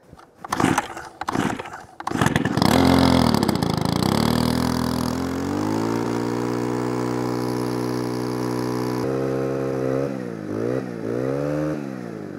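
A gas-powered garden machine with about two-thirds of a tank of fuel is cranked with a few quick pulls, then catches and roars loudly up close, settling into a steady running drone with a couple of brief dips near the end.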